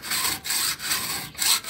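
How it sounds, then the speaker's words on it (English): Hand saw cutting through an old laminated metal plane iron, rhythmic rasping strokes repeating about four times with brief pauses between, close and fairly loud. "I've been sawing through the soft metal and all of a sudden it won't saw anymore."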